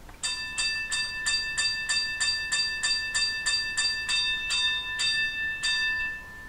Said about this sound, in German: Gehen wir weiter auf F17, die Glocke.